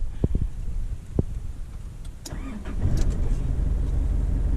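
A diesel car engine cranks with a few sharp clicks, then catches and settles into a low, steady rumble close by.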